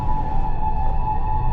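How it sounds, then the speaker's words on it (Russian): An ambulance siren in a heavy traffic jam in a tunnel in Japan: a steady, droning electronic tone held over a low road rumble, moderately loud with no talking. "И едет скорая."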